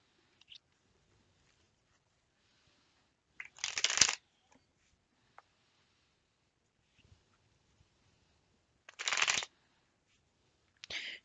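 Tarot cards shuffled for a Celtic cross reading, with two distinct riffling bursts of about a second each and a few faint card taps and clicks between them in an otherwise quiet room.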